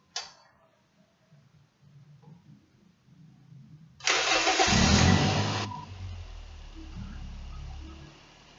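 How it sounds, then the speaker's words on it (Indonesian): A car with an automatic transmission cranks and fires up after a quiet lead-in with faint clicks, its engine roars loudly for a moment, then settles into a steady low idle. "Kita hidupkan dulu engine-nya."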